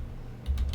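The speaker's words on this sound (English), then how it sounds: "here I can hit Control tilde, that little key below the escape key." A few quick key presses on a computer keyboard, a short cluster of clicks near the end after a quiet pause.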